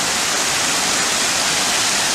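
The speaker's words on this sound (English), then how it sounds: "Just up to the top at Waterfalls now." Waterfall in the Cambodian countryside, a loud, dense, constant roar of rushing water filling the whole clip with no breaks.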